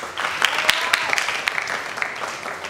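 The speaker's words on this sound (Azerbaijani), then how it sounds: "Raksana bir alqışlayın" Television show audience applauding the dancer Raksana, a crisp burst of many hands clapping with sharp individual claps standing out, close and lively for a few seconds.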